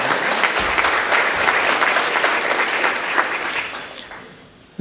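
Loud applause from an audience at a Gujarati talk event, dense continuous clapping close by that gradually fades out toward the end.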